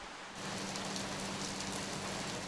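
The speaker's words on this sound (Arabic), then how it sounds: "أمطار الخير أمطار البركة" Rain falls steadily in a dense, even hiss that starts abruptly and continues at a moderate level, with no voices over it.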